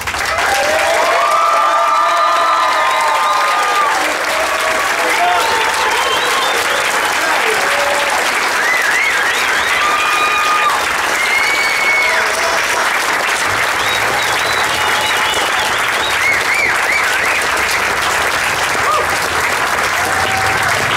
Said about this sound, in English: let's give the grad class one final round of applause today